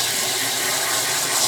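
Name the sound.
sprayer spraying water on filter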